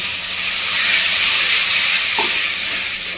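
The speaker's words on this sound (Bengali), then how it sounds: "এবার আমি দিয়ে দিচ্ছি জল," Water poured into hot frying masala in a pan bursts into a loud, continuous sizzle and steamy hiss that stays close and strong throughout, easing slightly toward the end.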